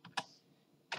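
A few separate keystrokes on a computer keyboard while entering a ping command, three quiet clicks within a second with a gap between them.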